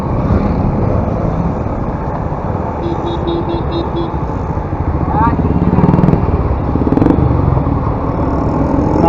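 A CF Moto 300 NK motorcycle cruises on a highway, its engine droning loud and close under heavy wind rush, with a rider's voice over it.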